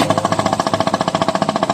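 Yamaha SZ150 motorcycle engine being started, a loud, close, rapid pulsing rattle at a steady beat with no talk.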